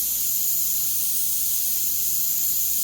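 A paint spray gun hisses continuously as it sprays paint onto a Mustang hood, a steady close airy spray sound with no pauses and no talking.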